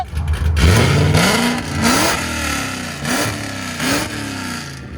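A Ford Mustang GT with a supercharged V8, headers and straight pipes is revved several times: one long climbing rev, then shorter sharp blips, loud and close, with no voices.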